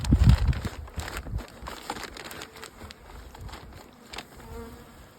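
Honey bees buzz around an open hive box, a close, continuous droning hum that swells loudly at the start and then settles into a steadier, fainter buzz.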